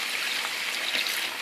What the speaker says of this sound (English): And we're going to add in about 2 cups of water.